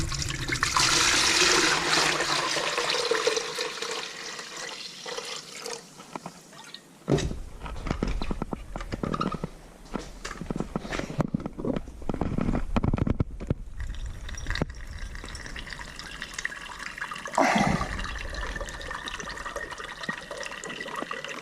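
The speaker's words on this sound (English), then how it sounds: "I think this is dripping. I think it's leaking." Water splashes and runs during rinsing, with intermittent drips and trickling leaks, irregular bursts of gushing and quieter pauses, close and fairly loud, with no talking.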